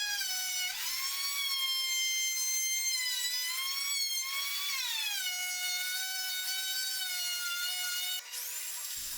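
A handheld router with a bearing-guided pattern bit flush-trims the overhang of glued bent wood laminations for a railing, giving a loud, steady high whine whose pitch sags and recovers under load, running almost without a break until a brief dip at the end.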